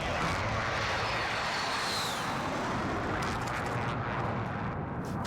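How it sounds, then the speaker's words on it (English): An airstrike in Call of Duty Warzone, heard as a dense, continuous roar of jet engines and rumbling blasts that fills the whole stretch at steady loudness, with no voices over it. "Oh, airstrike."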